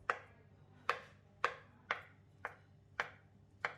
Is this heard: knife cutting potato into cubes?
yes